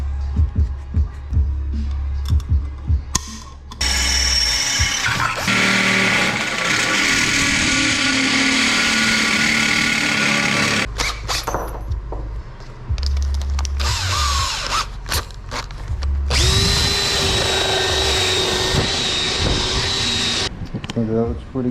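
Power drill boring holes in a fat tire motorized board track racer bicycle frame, several loud whirring bursts of varying pitch separated by pauses, with a voice talking in between.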